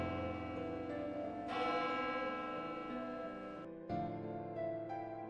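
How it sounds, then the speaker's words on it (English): Resonant church bell tolling in a video game, with sustained ringing overtones, struck a few times with long decays, alone and moderately quiet. "The sound of the church bell, accompanied by an unusual cold, enveloped your entire body."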